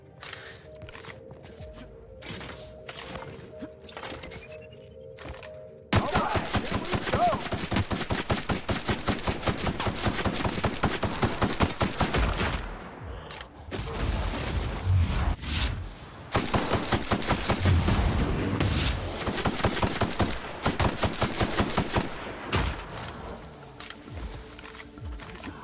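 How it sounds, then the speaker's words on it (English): Rapid-fire bursts from a healing gun in the video game The Outer Worlds, a dense stream of fast repeated shots coming in long runs separated by short pauses, moderately loud. "I use a healing gun."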